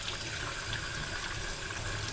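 Hot tap water gushes steadily into a sink while flushing out a power steering hose from a 1965 hardtop, a continuous rushing, hissing stream with no pauses.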